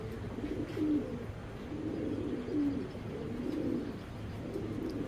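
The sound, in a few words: racer pigeons cooing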